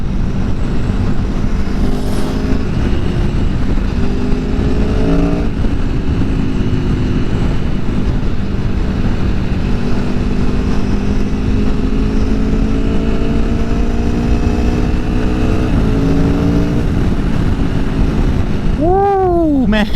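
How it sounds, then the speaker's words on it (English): A 2019 Aprilia Tuono Factory motorcycle engine drones loud and steady while riding, its pitch rising and falling through gear changes, under constant wind rush, with a sharp rev climb near the end. "it's got an engine though, that's for sure"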